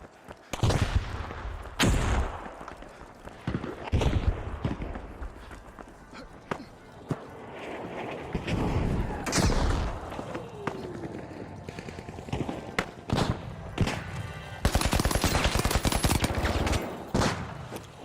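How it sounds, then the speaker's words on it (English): A video game battle carries gunfire, bursts of automatic fire and a frag grenade, with sharp loud cracks and blasts scattered across a busy, cluttered mix. Footstep-like thuds and a voice sit underneath. "Frag grenade out."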